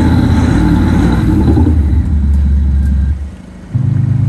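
A Thor electronic exhaust sound system fitted to a Volkswagen Scirocco plays a loud, deep rumbling engine note that surges and holds, dips briefly, then rises again.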